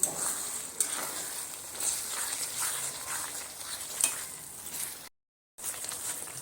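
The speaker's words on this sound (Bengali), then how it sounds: "কাজু বাদামটা দিয়ে আবারও সুন্দর করে আমি কষিয়ে নেব" Cashew paste being sautéed in a thick egg biryani gravy over low-to-medium heat, giving a steady close sizzle with soft stirring scrapes, a few brief louder spikes, and a short silent gap near the end.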